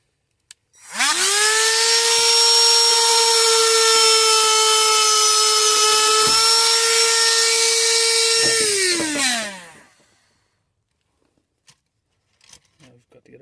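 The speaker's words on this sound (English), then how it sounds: "So we're just going to get a grinder tool on it" A handheld grinder cuts through thin, tough wire while repairing a Land Rover Discovery 5 driver's window fault, a loud steady high whine lasting about eight seconds that spins down and stops, with a few small knocks after.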